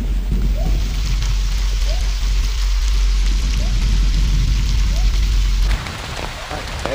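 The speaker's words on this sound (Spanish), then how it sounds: "la tormenta vuelve a descargar con fuerza" Heavy rainstorm pounding the Amazon rainforest of Yasuni, Ecuador, a dense steady roar of rain close by that keeps up without a break, then eases slightly near the end.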